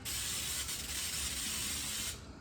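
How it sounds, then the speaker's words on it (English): Baker's Joy flour-containing baking spray misted onto cake pans for a chocolate cake, one continuous aerosol hiss lasting about two seconds at close range, then stopping abruptly. "Okay, we're gonna spray our cake pans."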